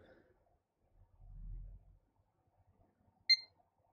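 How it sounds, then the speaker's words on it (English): A single short, high electronic beep from a newly built Ryzen 2600X computer at power-on self-test, sounding crisply near the end after a soft low rumble and otherwise quiet surroundings. "That was a much faster post beep"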